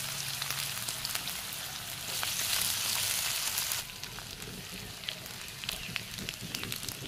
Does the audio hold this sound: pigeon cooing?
no